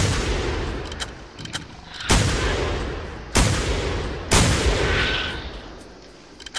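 Gunfire in the hunting game theHunter: Primal, with a few small reports followed by three loud, sharp blasts spaced about a second apart, each trailing into a rumbling decay, with no talk over them.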